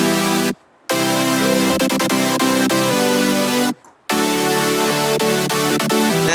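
A single-layer future bass chord patch built in the Serum synth, playing thick sustained chords that pulse in place and stop twice for short gaps, with no voices.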